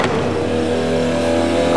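A retractable glider engine with a propeller, deployed from behind clam doors by a computer-controlled handle, produces a steady, loud mechanical hum with a rising whir over a short stretch, with no talk.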